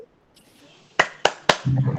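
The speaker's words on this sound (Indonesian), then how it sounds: "Tepuk tangan 3, Paraspati" A group of people claps three times during a training facilitation session, three sharp, evenly spaced claps, followed by a brief burst of voices.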